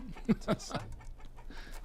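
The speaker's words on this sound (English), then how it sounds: "Why have you got chickens?" Chickens cluck close by in a few quick, sharp bursts, followed by softer fowl murmuring, with a person's voice also present in the mix.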